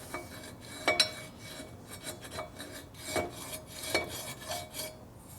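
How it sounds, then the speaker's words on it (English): Hand file rasping on a 1948 Harley-Davidson panhead engine part, several separate scraping strokes close up, quiet and uneven in rhythm with pauses between them. "You can take the file and do a radius cut."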